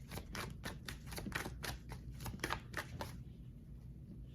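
Oracle cards being shuffled by hand, a rapid series of crisp riffling flutters in quick rhythm, close and fairly quiet, fading to stillness at the end.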